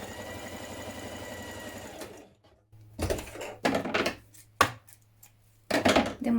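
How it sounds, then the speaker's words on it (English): Sewing machine stitching an underarm seam on a spring top: a steady whirring run of stitching, a pause, then several short bursts of stitching with clicks between them, close and clear with no talking. "Now stitch your underarm seam."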